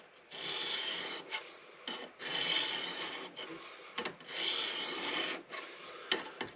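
A kitchen knife sharpened on a stone, grinding metal off the blade: long, close raspy strokes repeated several times with short pauses between them, and no talking.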